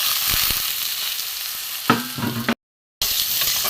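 Eggplant and potato with turmeric, cumin and coriander powder sizzle in hot oil, a steady frying hiss with scraping stir strokes near the end, broken by a brief silence before the sizzle returns.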